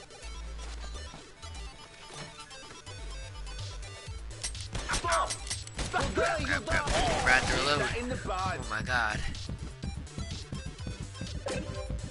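Rapid video game gunfire as enemies are shot while sliding, clustered crashing shots and impacts building into a loud, chaotic stretch, with a player talking over it.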